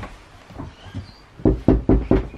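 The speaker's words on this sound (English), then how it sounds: "They might knock on the door." Four firm knocks land on a door in quick succession near the end, close and loud. Softer scattered taps and household noises come before them.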